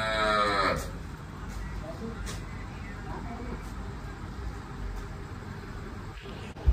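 A cow, shown with her ten-day-old calf, lets out a loud, close moo at the very start, then a quieter farmyard hum continues with faint background noise.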